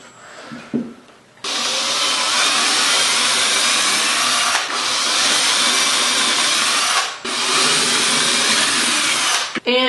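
Power drill driving screws into the hinges of a wooden chest: three long, loud, high-pitched whirring runs, each followed by a brief dip before the next screw.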